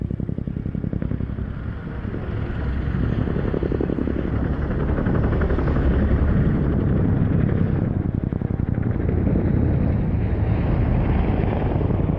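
A large transport helicopter flying at the Royal International Air Tattoo at RAF Fairford, a loud continuous rotor and turbine roar with rapid blade chop that holds steady and swells slightly as it passes, no voices.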